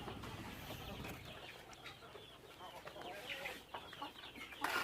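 Dual-purpose native kampung chickens in a coop cluck faintly and intermittently against a quiet outdoor background, with a slightly louder burst near the end.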